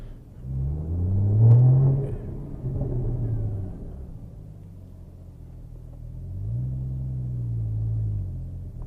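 A Porsche Boxster Spyder with an Akrapovic exhaust lifts off on overrun, its deep engine note falling away loud and close, then swelling again with a low burbling drone.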